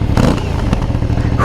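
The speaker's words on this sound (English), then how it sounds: "Now that's a V-twin." An Aprilia Shiver 900 V-twin motorcycle engine rumbles loudly and steadily up close, with a deep throaty idle and a brief rise in revs near the end.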